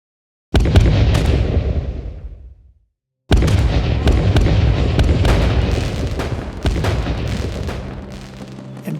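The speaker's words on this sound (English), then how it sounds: "Erie citizens celebrated the 4th of July with fireworks at their bicentennial tower." Fourth of July fireworks burst at the bicentennial tower in Erie, loud booms and crackles starting sharply, fading to a short silence, then resuming as a dense run of overlapping blasts and sizzling crackle.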